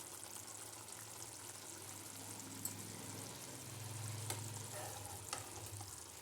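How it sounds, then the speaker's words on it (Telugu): Egg curry being stirred gently in a pan, a steady soft sizzle with light scraping and stirring sounds continuing throughout at moderate, even volume, no talking. "మెల్లగా కలపాలి, లేకపోతే అంత విరిగిపోతుంది."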